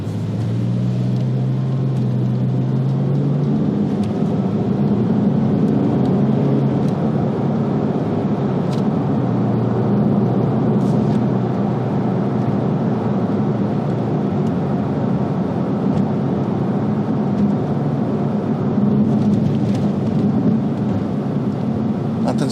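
A 2000 Porsche 911 Tiptronic driving over a rough road, a steady loud rumble of engine and road noise throughout, with a lower engine tone at the start and faint bumps and rattles.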